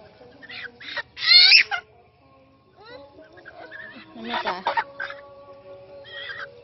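A chicken gives loud squawks and clucks close by, with a person talking in between the calls.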